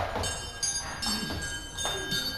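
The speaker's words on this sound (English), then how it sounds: "Ring the alarm bell!" An alarm bell rings in a stage performance of Macbeth, with repeated metallic clangs in a loud, steady pattern of strokes and a sustained ringing tone between them.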